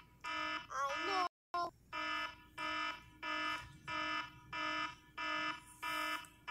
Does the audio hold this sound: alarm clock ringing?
yes